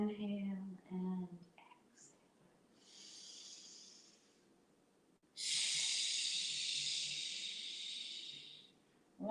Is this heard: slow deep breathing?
yes